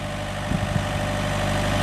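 A 2002 John Deere 110 hydrostatic tractor engine idles steadily, a continuous low rumble with a slight rise in level and a couple of faint knocks partway through.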